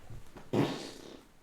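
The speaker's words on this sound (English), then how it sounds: "Wow, that was a fart." A single short, low flatulent burst, close and fairly loud, trailing off quickly after a brief quiet lead-in.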